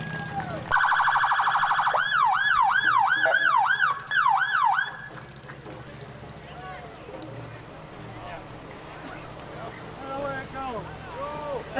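A restored 1986 Dodge Diplomat police car sounds its siren in a Memorial Day parade, a loud rapid yelping wail that falls back into street noise as an announcer speaks and crowd sounds carry on.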